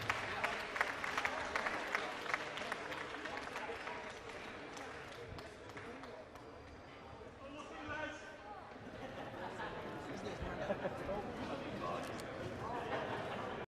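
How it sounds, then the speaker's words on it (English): A boxing crowd applauds and cheers as the fighter Anwar Alfadli leaves the ring, a dense, continuous wash of clapping and crowd noise with voices mixed in. "please give a round of applause for Anwar Alfadli"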